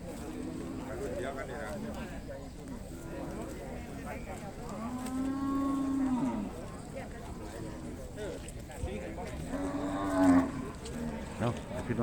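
Cattle and buffalo at an open livestock market in Ubon-area Sisaket, Thailand, two drawn-out moos a few seconds apart rising over a busy murmur of voices and market bustle.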